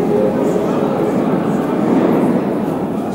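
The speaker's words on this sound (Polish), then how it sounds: "Metro, stacja Kijewska." Moscow metro train at Kievskaya station, a loud continuous rumble and roar of rolling carriages filling the platform, steady throughout with a murmur of voices beneath.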